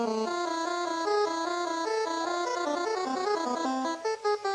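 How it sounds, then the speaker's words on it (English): An NES-style square-wave chiptune melody with its pulse width swept on the fly, giving a fuzzy, buzzy, shifting timbre. Fast stepping notes run steadily and alone, with a few brief dropouts near the end. "you could actually adjust the pulse width on the fly and get a sound kind of like this."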